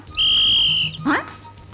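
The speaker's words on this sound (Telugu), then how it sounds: "వాళ్ళ దగ్గర ఈలేయడం కూడా నేర్చుకున్నావా?" A man gives a single loud, sustained whistle lasting under a second, followed right after by a brief vocal sound.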